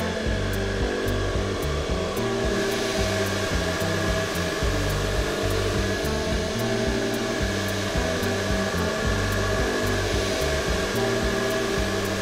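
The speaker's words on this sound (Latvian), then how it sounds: "un tad es viņus izžāvēju ar fēnu" A hair dryer drying hair runs as a loud, continuous whirring blow with a steady motor hum, shifting slightly in pitch as it moves, with no talking.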